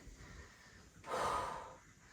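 A single heavy, forceful breath pushed out during a no-equipment HIIT bodyweight workout, near and brief, with quiet between.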